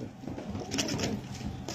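A pigeon coos close by in soft, low repeated notes over a noisy background, with a few brighter chirps or flutters mixed in.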